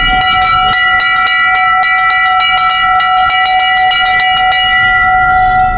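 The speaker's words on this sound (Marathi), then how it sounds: "घंटा बजाओ टैक्स बचाओ" A metal bell rung repeatedly at a street protest, clear steady strikes ringing out loudly and continuously with sustained overtones, close and alone without talk.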